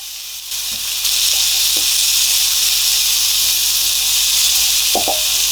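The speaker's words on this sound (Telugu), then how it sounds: "కట్ చేసి పెట్టుకున్నటువంటి ఉల్లిపాయ ముక్కల్ని ఇప్పుడు వేసుకుందాము." Chopped onion pieces dropped into hot oil with mustard seeds burst into a loud, continuous hissing sizzle for a chicken masala, holding steady close-up with a couple of faint taps.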